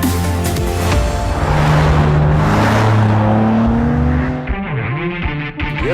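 A BMW M3 G80 screams through a lap of the Nürburgring Nordschleife, its engine loud and close with rising and falling revs, gear changes and a brief tyre squeal, with no talk.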